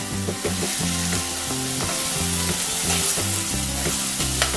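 A sprig of curry leaves crackles in hot oil over medium flame for a spicy red fish curry, a dense continuous sizzle with spatula clinks and stirring strokes, close and fairly loud, no speech.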